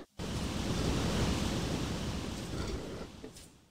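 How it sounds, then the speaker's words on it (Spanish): Water floods a chamber in Tomb Raider's Tomb of Tihocan, a loud continuous rushing roar like surf that starts abruptly and slowly eases off near the end, with no voices. "parece que se ha llenado el nivel de agua"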